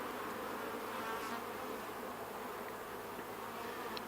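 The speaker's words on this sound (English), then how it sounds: "I see that bunch of bees collecting on the bottom" Honeybees buzz steadily around an open beehive, a dense, continuous hum from many insects close by, with no talking.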